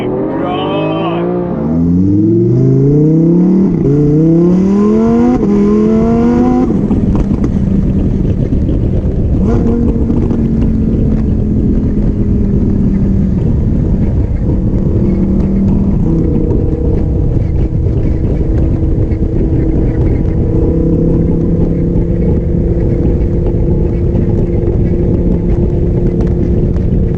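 A Lamborghini Aventador Pirelli Edition revs hard while driving, its engine note climbing through rapid gear pulls before settling into a loud, sustained roar with wind buffeting throughout.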